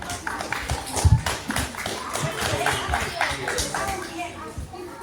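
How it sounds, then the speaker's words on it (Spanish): Scattered clapping from a school audience of children, parents and teachers applauding a child, uneven and fairly close, with children's voices and chatter mixed in. "Fuerte aplauso para Matías."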